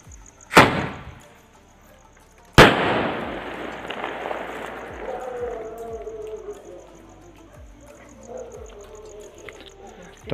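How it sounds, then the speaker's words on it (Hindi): Bunny brand Pogo green sky shot firework: a sharp bang, then a second louder blast that decays into a long fading crackle and whistle, with faint ticks continuing afterward. "इस स्काई शॉट को लगाते हैं आग और देखते हैं"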